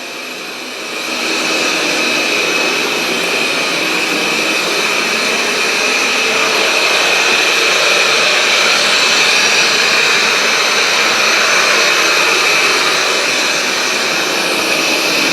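Self-emptying robot vacuum cleaning a rug, a steady, fairly loud whirring hum with a high whine that starts after a second and holds evenly with no talk.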